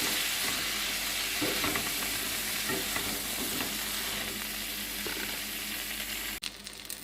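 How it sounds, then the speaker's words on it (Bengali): Pointed gourd pieces frying over medium heat with turmeric and salt, a steady close sizzle broken by scraping stirs, cutting off sharply near the end. "বেশ কিছুক্ষণ আমি মিডিয়াম আঁচে পটলগুলোকে ভেজে নেব।"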